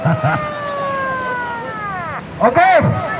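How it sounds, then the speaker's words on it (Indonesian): A siren sounds at a flag-raising ceremony on a beach in Malang: a loud, close tone sweeps slowly downward and fades, then a rising and falling wail starts up again. A voice speaks briefly at the start. "sirine dibunyikan"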